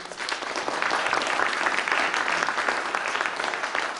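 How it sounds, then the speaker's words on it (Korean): A live literary-event audience applauds a veteran Korean novelist, steady dense clapping filling the room for about four seconds at moderate level with no talk over it. "여러분 선생님께 박수 한번 부탁드릴게요."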